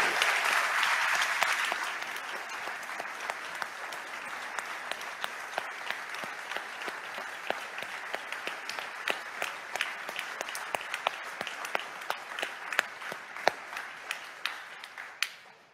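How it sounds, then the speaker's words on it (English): A church congregation applauds a deacon with a full, dense round of clapping that thins after about two seconds into scattered individual claps continuing to the end. "So we got to give him a double round of applause to Deacon Frank."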